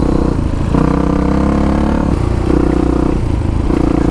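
Dual-sport motorcycles, including a KTM 690, a DRZ 400 and a 1985 Honda XR350R, riding desert terrain, with a loud continuous engine drone, gear changes and clattering from close by.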